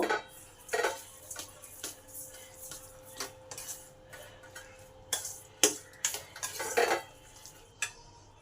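A spoon knocks and scrapes against a bowl while oats batter with chilli, cumin powder and sugar is mixed, giving quiet irregular clinks and taps close by with no talking.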